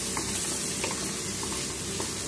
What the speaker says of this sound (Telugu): ఈ విధంగా కొద్దిసేపు వేయించుకున్నాం